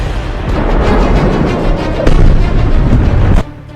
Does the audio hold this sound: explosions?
yes